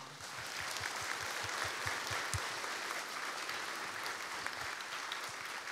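A crowd applauds steadily and fairly loudly throughout at a school entrance ceremony, a dense wash of clapping with no voices over it.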